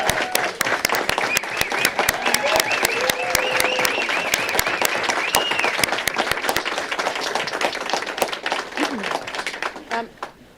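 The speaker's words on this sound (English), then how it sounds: "So let's give Rick a round of applause." County commissioners' meeting crowd giving a round of applause for a high school coach of the year, loud dense clapping sustained for about ten seconds with voices and cheers mixed in before it thins out at the end.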